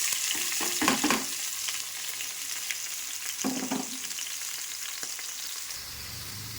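Onion, curry leaves and green chillies dropped into hot oil in a pan, a soft steady sizzle broken by bursts of louder crackling and stirring clatter, fairly quiet and close.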